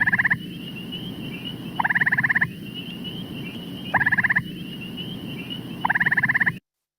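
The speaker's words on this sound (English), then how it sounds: "So here is the gray tree frog." Gray tree frog calling outdoors, four short musical trills repeating roughly every two seconds over a steady chorus of other frogs and faint night noise.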